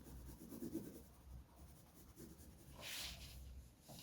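Pencil shading across paper while sketching building facade shadows, a quiet close scratchy rubbing in short strokes with faint background room noise.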